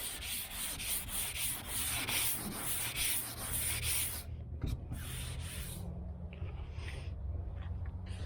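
Hand sanding a Bondo and fiberglass hood on a 1978 El Camino SS, a steady, close rhythmic scratchy rubbing of sandpaper strokes that stops partway, leaving a few lighter scrapes and quiet shop background.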